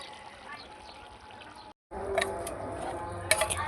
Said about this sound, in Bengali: আগে থেকে গরম জল করে রেখে দিয়েছিলাম, ওটা দিয়ে দিয়েছি।